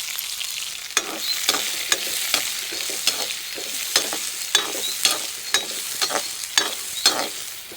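Green chillies and chopped onions frying in a pan for jackfruit seed masala dosa, a steady sizzle broken by regular sharp scraping taps of a spatula roughly once a second, close and alone.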